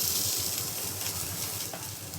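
Meat frying in a hot pan gives a steady, close sizzle with dense crackling hiss throughout, no voices.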